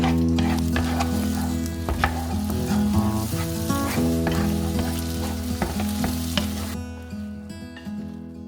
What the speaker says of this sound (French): Un peu d'huile d'olive, on va faire des œufs brouillés très brièvement